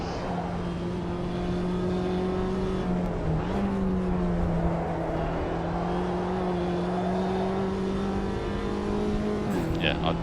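A Mini Cooper JCW race car in the Automobilista 2 racing game drones along at a steady endurance pace, with a loud sustained engine tone that shifts pitch gently throughout and no talking.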